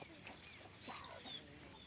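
A chicken clucks faintly outdoors on a small one-rai farm garden: a brief, quiet cluck or two amid low background noise.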